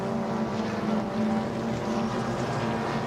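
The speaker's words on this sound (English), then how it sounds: "To Cameron Jones, awesome sounding motor vehicle. Turbocharged rotary, running the triple rotary configuration." A turbocharged triple-rotary race car engine at a motorsport circuit: a sustained, buzzing drone with a steady pitch, heard at moderate distance, with no voices.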